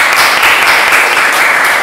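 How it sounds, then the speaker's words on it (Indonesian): Applause for two guests at the close of an Indonesian talk show about a pencak silat athlete, a steady, loud, close wash of clapping with no voices. "Oke, tepuk tangan buat mereka berdua."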